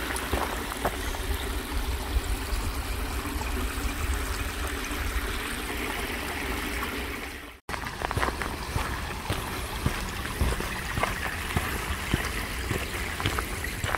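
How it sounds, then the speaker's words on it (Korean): Clear mountain stream water flows and trickles continuously over rocks, close by and steady, with a brief dropout midway. "산에서 내려오는 시냇물이 참 맑고 물소리가 좋았습니다"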